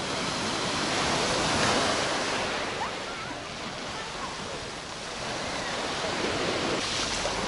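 Steady rush of Black Sea surf washing onto the shore at Alushta, Crimea, swelling and easing over several seconds, with a broad hiss of breaking water and no voices.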